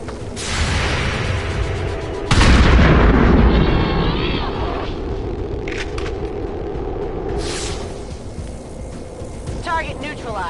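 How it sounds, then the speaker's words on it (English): Heavy gunfire and explosive blasts fill a battle zone in XCOM 2, with a loud broadband burst near the start and a sustained heavy barrage a few seconds in, then trailing rumbles and scattered cracks. "There's heavy fire in this zone."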